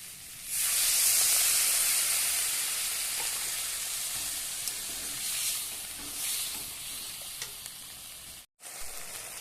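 Water poured into a pan of cooking chana dal with paneer bursts into a loud, steady sizzle and hiss that slowly eases over several seconds.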